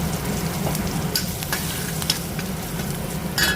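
Red chillies and asafoetida sizzling in hot oil in a pan, a loud, continuous close crackle with scattered faint pops and a few stirring scrapes.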